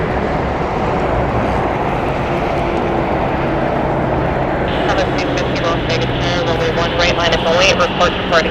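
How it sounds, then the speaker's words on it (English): An Allegiant Airbus A319 airliner taxis onto the runway, its jet engines producing a steady, loud rumbling roar, and someone talks over it during the second half. "currently taking the runway is Allegiant 1640 heading over to Cedar Rapids. This is an Airbus A319."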